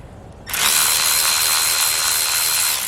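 A power tool spins off the 10 mm bolts of the water pump housing on a Mercury 20 hp outboard, starting abruptly after a brief quiet and whirring loud and steady to the end, with no talking.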